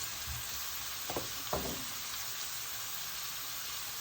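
Minced meat frying in a pan over low heat with salt and black pepper, a constant dense sizzle with a few soft clinks of stirring.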